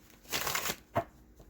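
Tarot cards being shuffled close by, one soft papery riffle followed by a shorter flick and a faint tap, quiet and without talk.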